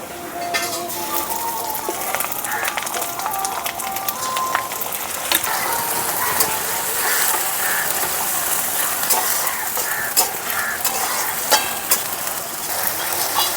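Ginger-garlic paste frying in a pan with browned onions for Bengali egg ghugni, a steady broadband sizzle with scattered metallic clicks and scrapes of a stirring spoon throughout.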